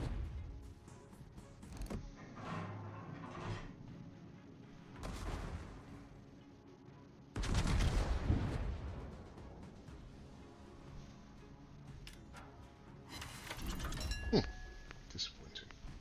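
The rear turrets of the US super battleship Maine fire in World of Warships. Several heavy booming salvos are spread across the clip, with rumbling and mechanical creaks between them.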